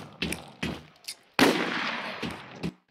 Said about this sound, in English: He's getting shot somewhere.